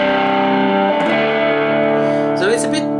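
Reverend Flatroc electric guitar with its bass contour knob turned to maximum, sustained notes and a strummed chord ringing loud and close with a dark, murky tone and overdriven character, played alone.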